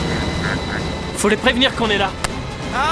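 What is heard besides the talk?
rescue helicopter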